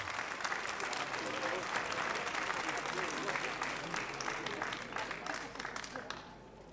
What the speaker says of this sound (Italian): scaldiamo con un applauso forte